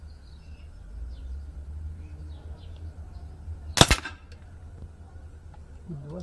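A single sharp shot from a Beeman P17 air pistol fired standing at a 20-metre target, one loud crack standing out against quiet room hiss.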